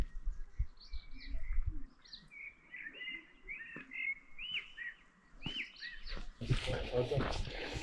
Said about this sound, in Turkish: Kuş seslerini alabiliyor musunuz?